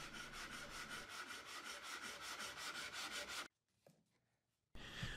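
Hand sanding of a wooden keepsake box with spline miter and dovetail key joints, a steady rhythmic rubbing stroke for several seconds, then a brief pause and a light knock before the scraping resumes.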